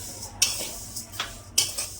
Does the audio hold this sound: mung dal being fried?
yes